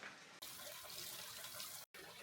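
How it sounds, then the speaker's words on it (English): Water runs steadily at a temple in Nara, a close, loud splashing gush that breaks off briefly twice and then resumes, with no voices. "It's so good with this temple water."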